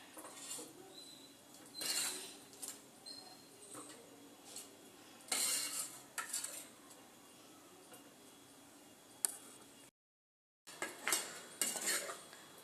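Chicken tikka is lifted slowly onto a plate with metal utensils, making soft scrapes and a few sharp clinks against the plate and pan in separate bursts at close range, with a short gap of silence near the end.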